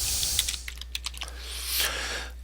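Typing on a computer keyboard while entering a name into a spreadsheet cell, a quick run of close, sharp key clicks in an irregular rhythm, then a softer rustle at the end.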